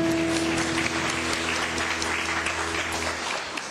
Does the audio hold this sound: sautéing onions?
no